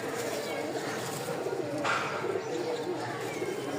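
Rajshahi Giribaj pigeons coo softly amid a busy outdoor background, with faint chirps and a steady murmur throughout.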